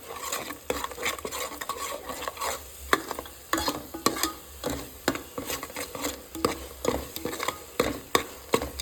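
Spices and coriander powder stirred into a frying chicken curry, a spoon scraping and clinking against the pan in quick repeated strokes over a constant sizzle of hot oil.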